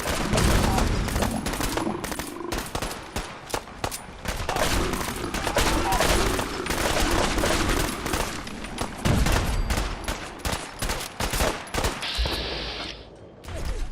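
Sustained gunfire in a Fallout 4 Far Harbor battle in thick fog, dense overlapping shots and automatic bursts that barely let up, with shouting voices mixed in.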